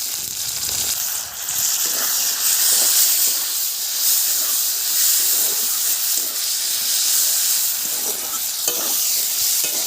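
Sweet potato frying in hot oil in a wok, a steady loud sizzle and hiss with light stirring scrapes throughout.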